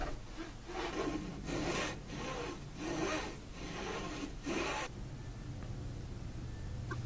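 Wood being cut to size for a turtle basking platform frame, heard as six or seven rhythmic rasping strokes about a second apart, fairly close, before the cutting stops and the room goes quiet.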